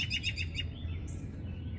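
A baby bird found in a garden chirps in a quick series of high, close tweets, then falls quiet against faint background noise.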